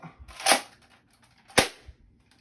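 A Nerf Rival blaster, a ball-firing type, fired in single shots: two sharp, close pops about a second apart, each with a quick mechanical snap, in a quiet room.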